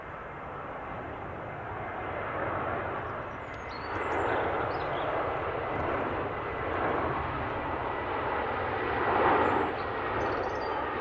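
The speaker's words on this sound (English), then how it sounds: "Nice touchdown from the Aegean." An Aegean airliner touches down at Manchester Airport, its engines a steady broad roar heard from a distance that swells and then holds, with no talk over it.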